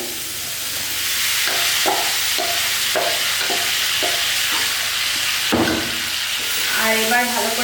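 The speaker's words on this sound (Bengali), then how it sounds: "এবার আমি ফুলকপি আর আলুটা দিয়ে দিচ্ছি মশলার মধ্যে" Cauliflower and potato being tossed into hot spiced oil in a pan for a rohu fish curry, frying with a steady close sizzle and repeated rhythmic stirring scrapes; no talking.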